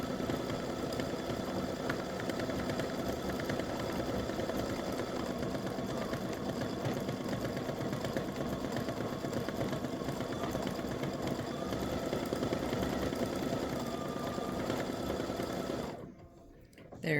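An embroidery machine stitches blue stars on a patriotic baseball-themed mug rug, a long, steady, close rhythmic whir that runs unbroken before stopping abruptly near the end.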